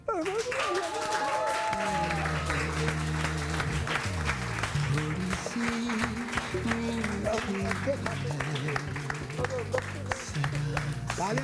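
Studio audience applause on a Pakistani morning TV show, a steady patter of clapping running under music and overlapping voices for the full length.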